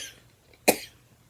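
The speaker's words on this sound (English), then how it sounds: "I'm coughing" A single sharp cough bursts out close by in a quiet indoor room, brief and alone with no talking around it.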